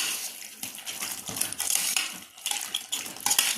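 Salt and pepper being stirred into chicken soup in a pressure cooker with a spoon, giving repeated light metallic scrapes and clinks against the pot in irregular bursts, close and fairly quiet, with no talking.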